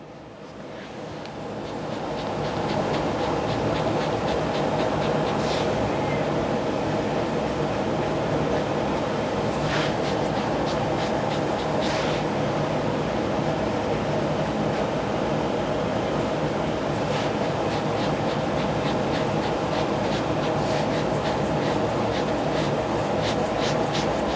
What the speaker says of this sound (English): I forgot to turn the vent off for my air conditioning, so if you can hear that, my bad.